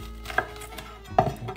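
Raw chicken being chopped with a knife on a cutting board while making chicken cacciatore: two sharp, separate chops about three-quarters of a second apart, close and clear, with a faint kitchen background and no talking.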